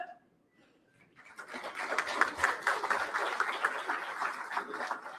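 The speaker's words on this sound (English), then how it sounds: "May I request everyone to join me in extending a warm round of applause as we welcome the Honorable Minister" An audience at an awards ceremony gives a warm round of applause to welcome a government minister, rising from near quiet into steady, moderately distant clapping that holds to the end.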